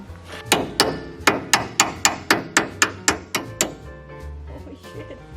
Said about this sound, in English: Now I'll be using a hammer the same way I took it off and trying to tap it back on there